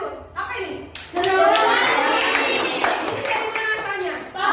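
Schoolchildren clap together in a classroom during a lesson, a dense burst of hand claps that starts abruptly and holds steady, with kids' voices chattering underneath.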